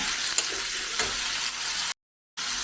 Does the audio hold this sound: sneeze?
no